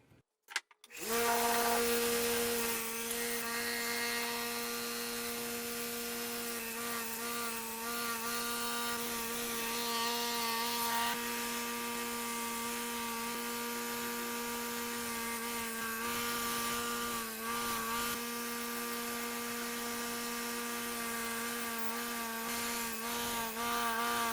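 A powered cleaning tool works over small screws, nuts and washers for a Frogeye's side curtain hardware. It starts abruptly and then runs as a steady, loud, close machine whine with a constant hum for the whole stretch.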